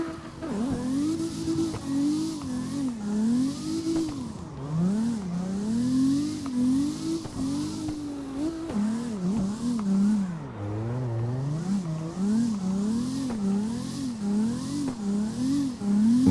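Drift car engine in a racing game on Kami Road, revving continuously with rapid throttle pulses so the pitch rises and falls in waves, loud and close, with faint tire noise and no talk.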